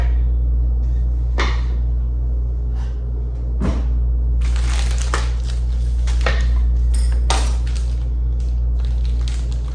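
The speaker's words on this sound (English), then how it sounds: "So I'm just dicing these up into cubes to make it easier for them to melt." Kitchen knife chopping vegan cheese slices into small cubes on a board, a few sharp irregular cuts and taps over a steady low background hum, with a busier run of rapid chopping in the second half.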